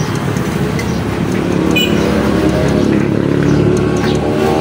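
A loosely adjusted Honda XR200 motorcycle engine idles with a steady mechanical clatter from slack exhaust and intake valves, a dense continuous running noise close by with no voices.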